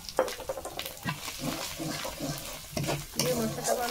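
Spice paste with turmeric stir-fried in a pan for a crab and bamboo shoot dish, giving a soft crackling sizzle broken by repeated scraping strokes of a spoon against the pan.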